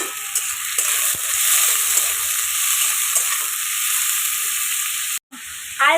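Potatoes fry in hot oil, giving a loud, continuous sizzling hiss with a few stirring knocks. There is a brief dropout near the end, and no one talks.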